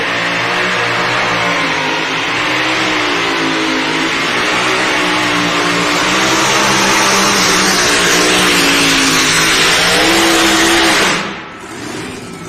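A blown, injected Hemi engine on a light modified class pulling tractor at a speedway roars close and loud at sustained high revs for about eleven seconds, then cuts off abruptly to a low rumble.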